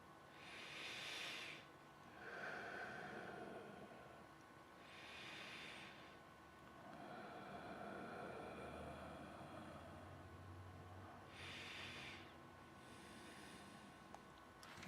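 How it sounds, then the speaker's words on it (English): Slow, deliberate breathing during a guided mindfulness session, with several soft, airy inhale-exhale swells spaced a few seconds apart, quiet and close with no talking. "Let's take a few breaths."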